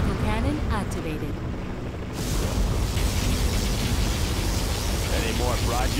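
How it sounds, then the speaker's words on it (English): A huge roaring blast swells up and holds loud and wide for several seconds as a USA particle cannon fires in Command & Conquer: Generals with the Shockwave mod, with faint voice beneath. "Particle cannon activated."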